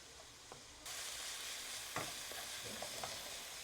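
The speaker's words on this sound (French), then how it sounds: "je fais chauffer un petit fond d'huile d'olive. J'ajoute l'ail et l'oignon haché." Garlic and chopped onion frying in a shallow layer of olive oil, a steady soft sizzle with a few faint stirring clicks, heard close and alone.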